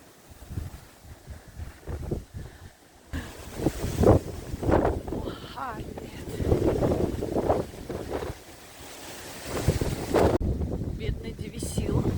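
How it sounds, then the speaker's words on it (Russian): Very strong wind buffets the microphone outdoors on a September day in a vegetable garden, rising into loud rumbling gusts that rise and fall throughout. "но очень-очень сильный ветер."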